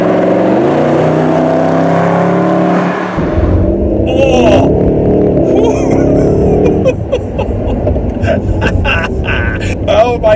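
A Mercedes SLS AMG pulls hard under loud acceleration, its engine note climbing through gear changes with deep roaring rumble and clattering road and wind noise, all heard from inside the cabin.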